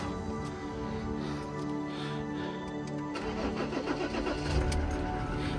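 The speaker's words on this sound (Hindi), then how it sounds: "एक सबसे पहले आज के लिए इंजन स्टार्ट कर लेते हैं।" A car engine cranks and catches at the start of a mountain road trip with the AC switched off, giving a steady mid-pitched hum that firms up and roughens slightly after the first few seconds.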